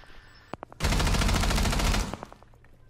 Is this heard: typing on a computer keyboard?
no